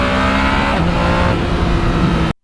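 A 2020 Yamaha MT-09 motorcycle engine revs loud and close with a steady droning tone that shifts in pitch, then cuts off abruptly near the end.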